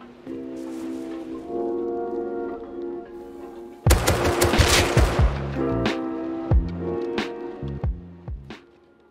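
Automatic gunfire from an MP5 or AK in the survival game Rust cracks out in bursts, starting loud and close and then breaking into scattered shots over a low game hum.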